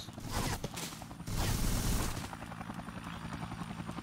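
Helicopter in the Dead Rising video game, a steady whirring, mechanical rotor drone that swells louder for a moment midway before settling into a continuous, fairly quiet hum, with no talking.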